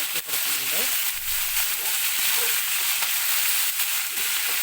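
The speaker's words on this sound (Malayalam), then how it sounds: "ഇളക്കി കൊടുക്കുന്നുണ്ട് നന്നായിട്ട് ഇളക്കി കൊടുക്കുക" Ivy gourd fries in a pan with curry leaves and green chillies, giving off a bright, continuous sizzle while a spoon stirs it, and the stirring taps and scrapes come through at intervals.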